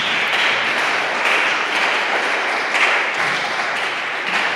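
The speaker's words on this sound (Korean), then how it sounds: "우리 박수로 환영하겠습니다" A church congregation applauds to welcome a newly registered member, steady broad clapping from many hands filling the room for several seconds, with no talk over it.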